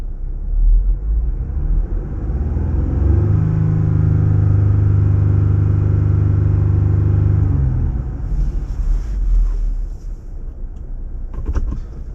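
A Jeep Gladiator engine is revved up to 3,000 RPM and held for several seconds in a loud, steady drone. It then drops back to a lower rumble, with a few light clicks afterward.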